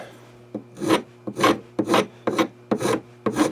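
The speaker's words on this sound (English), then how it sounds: "I'm just starting off with one of these 4-in-1 rasps, and I am just taking down" A 4-in-1 rasp files down wood on a Lyman Great Plains rifle kit near the entry thimble, giving seven or eight distinct rhythmic rasping strokes, close and loud, with no talking.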